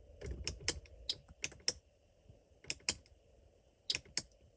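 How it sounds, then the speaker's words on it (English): Sharp mechanical relay clicks from an underglow lighting install on a 2017 Jeep Cherokee SRT, in small clusters, several quick ticks then pauses, close and fairly quiet against a faint background hum. "if you turn it on or off, you can hear the relay clicking"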